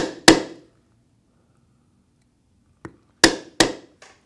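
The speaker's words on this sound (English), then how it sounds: "camouflage tool, and I will stamp down both edges" A metal camouflage stamping tool is struck down on the edges of a leather belt keeper, a few sharp, close taps, one alone and then a quick cluster of three, separated by silence.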